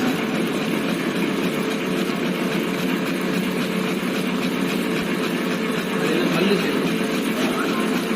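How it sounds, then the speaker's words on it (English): A horizontal milling machine cuts helical gear teeth with a loud, steady, unbroken mechanical drone that holds close and even from start to finish. "Yes, now the second tooth of helical gear cutting is started."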